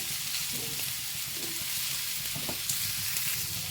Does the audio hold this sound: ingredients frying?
yes